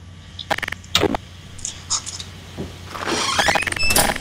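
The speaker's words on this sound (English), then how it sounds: "Your door's opening." A car door opens with a sharp clunk and squeak, followed by a few other thuds and a rising mechanical whir, in the video game Garry's Mod.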